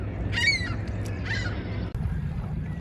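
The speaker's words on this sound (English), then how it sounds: "Couple classic Canada geese here" A couple of Canada goose honks ring out over a steady low rumble, one call early and another shortly after, moderately close, at a bird sanctuary on Toronto's waterfront.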